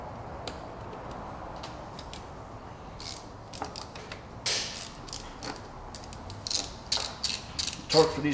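A hand ratchet tightens the coil cover nuts on a BMW Z3 engine, clicking in quick uneven bursts at close range, getting louder and busier toward the end with no talking.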